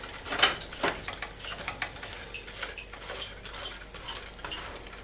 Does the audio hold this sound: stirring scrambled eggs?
yes